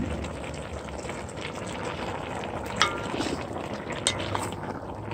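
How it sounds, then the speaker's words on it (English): Pot of pulled venison being stirred after long simmering, a steady close bubbling, liquid churn with a couple of brief scraping clinks, no voices. "From time to time, you want to give it a good stir."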